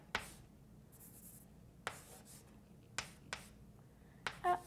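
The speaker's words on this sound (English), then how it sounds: "So I'm just going to write that next to it." Pen or pencil writing by hand while working a calculus problem, faint scratchy strokes in a few short separate bursts against a quiet background.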